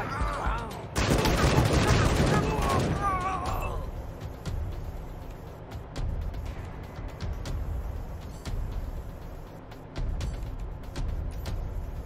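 Gunfire in the Wasteland 3 video game comes as a dense burst of rapid shots for a few seconds, then fades into quieter scattered clicks and impacts over a low background, with no talking.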